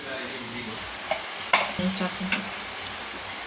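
A spoon stirs ridge gourd and moong dal kootu in a pan over a low, steady sizzle, with a few distinct scraping strokes near the middle.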